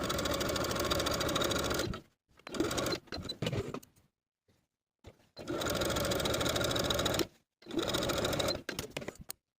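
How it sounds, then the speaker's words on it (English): Close, fast mechanical whirring of a sewing machine stitching basting stitches with a 1/4 inch seam allowance in several bursts of a few seconds each, separated by short pauses. "I'm going to sew basting stitches with a 1/4 inch seam allowance"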